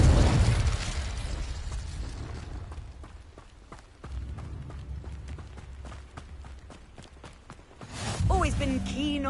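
Confringo fire spell cast in the Hogwarts Legacy video game, a loud burst and rumbling blast that fades, followed by scattered pops and footsteps, then a voice speaking near the end.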